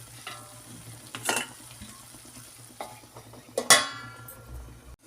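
Potatoes, peas and vegetables cook in a pan under a soft steady sizzle, with a few sharp scraping stirs of a spoon against the pan.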